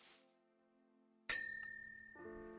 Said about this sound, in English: the next up is called the service bell